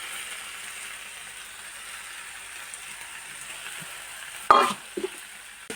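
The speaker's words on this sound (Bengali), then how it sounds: "এর মধ্যে এবার আমি সবগুলো দিয়ে কষিয়ে নেব" Spices sauté in oil for a fish curry with a faint, steady sizzle, broken near the end by a few louder clatters of a spoon against the pan.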